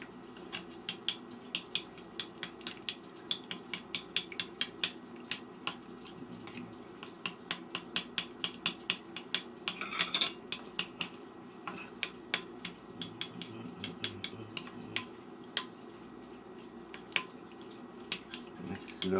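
Western omelet ingredients being stirred together in a bowl, with rapid, irregular clinks and taps of a utensil against the bowl, close and fairly quiet, with no talking.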